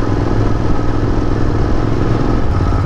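A Royal Enfield Interceptor motorcycle ridden on a temple road trip from Mumbai to Nashik gives a loud, steady engine thrum with rumbling exhaust and wind, close and continuous throughout.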